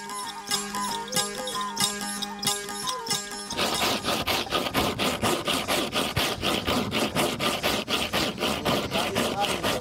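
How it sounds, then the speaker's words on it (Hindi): Hand saw cutting wood during wooden ship building, a rapid, steady rasping of back-and-forth strokes, close and loud, running continuously after a brief stretch of mixed workshop sounds. "ऐसे आरी निकालते आएंगे"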